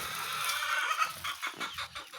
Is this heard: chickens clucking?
yes